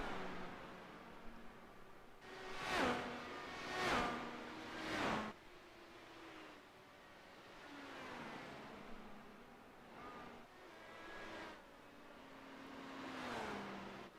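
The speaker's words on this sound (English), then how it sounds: "I think, yeah, that car is damaged. You can hear it." A damaged IndyCar races in the iRacing video game at Milwaukee, its engine note rising and falling in tonal sweeps as cars pass, with three louder passes early and fainter ones later over steady broadband noise.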